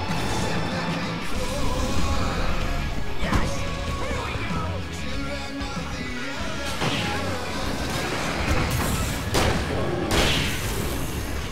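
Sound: grenade explosion from the video game Alan Wake

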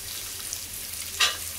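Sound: carrots added to frying onion and tomato

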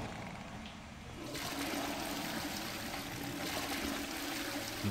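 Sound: toilet flushing in the video game Hogwarts Legacy

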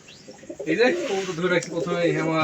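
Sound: pigeons cooing

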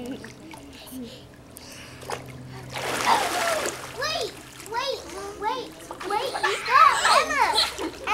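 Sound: child swimming and splashing in water

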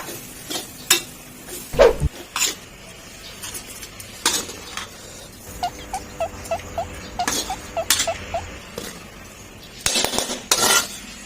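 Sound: scooping stir-fried field rat curry into a tray

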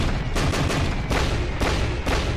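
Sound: cannon fire in Attack on Titan anime

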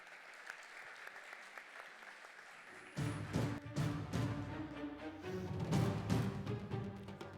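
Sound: audience applause as a presenter comes on stage

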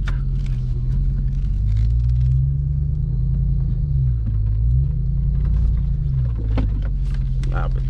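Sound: Ram TRX pickup truck engine rumbling while off-roading

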